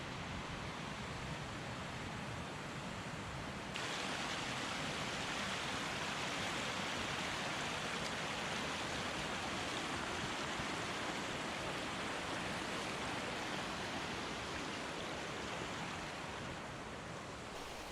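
A mountain creek and waterfall at the Cirque de Gavarnie give off a steady, broadband rushing roar that holds constant from near start to finish, with no voices.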